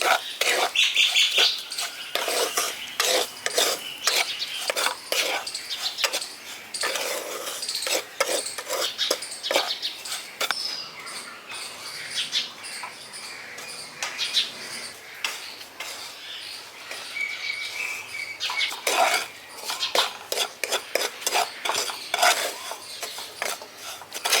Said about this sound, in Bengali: এবার সুজিটাকেও ভেজে নিচ্ছি